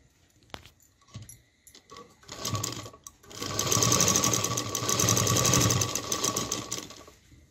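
Sewing machine stitching the shoulder seam of a heavily embroidered blouse: a few short clicks and brief starts give way to a close, steady, rapid mechanical whir that runs for about four seconds before stopping.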